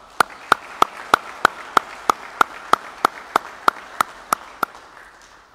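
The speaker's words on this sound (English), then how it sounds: "Please join me in a round of applause for all Army families." Steady, evenly spaced claps, about three per second, ring out sharply over a low hum for several seconds at an Army ceremony honoring military families, then stop.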